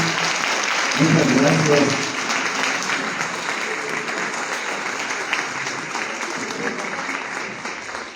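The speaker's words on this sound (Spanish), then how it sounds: "vamos a darle un fuerte aplauso" Applause from an audience at a talk on the social economy. The clapping fills the whole stretch, swelling briefly near the start while a voice gives a short thanks, then holding steady and easing slightly toward the end.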